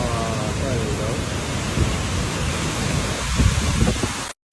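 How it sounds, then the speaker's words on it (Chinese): Heavy rain and strong wind of a thunderstorm in Guangzhou, a dense, steady roar of downpour throughout with gusty surges and a low rumble near the end, close and loud. "广州遭遇乌云压境，狂风暴雨骤然来袭"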